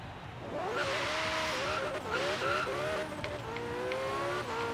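Car engine revving steadily in Forza Horizon 3, its rising and falling pitch running throughout, with bursts of tire squeal and skidding laid over the engine drone, loud and continuous.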